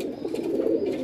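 A pigeon coos once in a low, throaty, rolling call, close and fairly loud against a quiet background.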